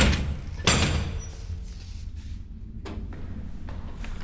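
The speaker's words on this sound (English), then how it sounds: "Okay, opening the door." A heavy door to a school gym in a basement is pushed open, with a loud thud and clatter of the latch and frame, followed by softer knocks and a further bump as it settles.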